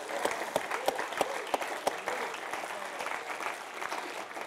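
A crowd of newly commissioned army officers at a West Point evening event applauds steadily throughout, a dense even clapping with a few sharp louder claps near the front.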